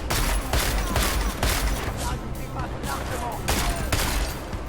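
Rapid bursts of gunfire from the Deus Ex: Mankind Divided video game crackle loudly in quick succession, dense volleys with booming low end and short gaps between shots.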